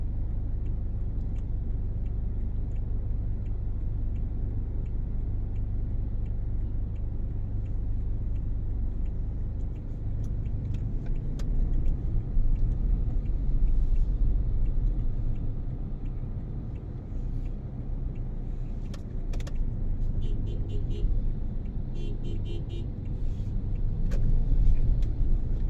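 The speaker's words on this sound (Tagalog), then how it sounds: "Oh, traffic in the city." Steady road traffic rumbles through a city on the drive from PITX toward C5 in Metro Manila, with cars idling and rolling close by, a continuous low drone broken by occasional brief higher engine and horn-like blips.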